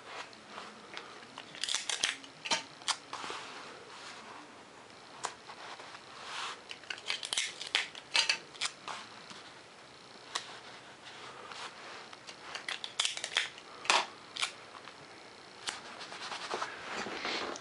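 Tape being pulled and pressed down to fix printed paper plans for a foam 70mm EDF stealth drone jet to a work surface, a run of sharp, close crackles and ripping bursts with quiet gaps, no talking.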